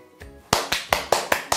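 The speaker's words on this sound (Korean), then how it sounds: "박수 박수!" Crisp hand claps in an even rhythm, about five sharp claps spaced closely and evenly, loud and near, cheering on the announcement of a 2024 singles party.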